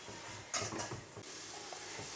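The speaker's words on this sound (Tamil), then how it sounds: "இது நல்லா எண்ணெயிலே வதங்கட்டும்" Onions sautéing in oil in a heavy-bottomed pan give a soft, steady sizzle with brief stirring scrapes, close and fairly quiet, with no talk.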